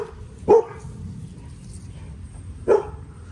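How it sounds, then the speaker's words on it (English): Dogs in a garden give two separate sharp barks about two seconds apart, fairly close, over a quiet outdoor background. "Girls, you're so barky."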